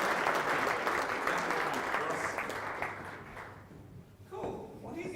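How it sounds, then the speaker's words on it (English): Audience applause after a keynote presentation, steady and dense, fading toward the end before a brief voice. "a big round of applause for Ross Dawson and his fabulous."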